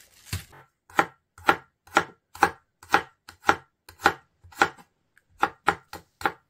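Garlic thinly sliced and then julienned with a knife on a board, a close series of about a dozen crisp, evenly spaced chopping taps with one short pause.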